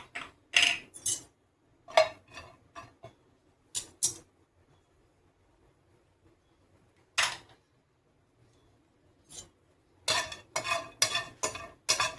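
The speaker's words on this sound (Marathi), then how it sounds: "तसंच खोबरं पण भाजून घेऊ।" Dry coconut is roasted and stirred in a pan: brisk scraping bursts of a spatula against metal come in clusters, separated by a long quiet stretch, close and crisp, with no voices.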